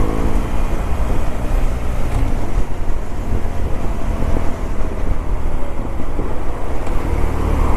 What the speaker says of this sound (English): this is pretty much normal traffic for before 3 o'clock.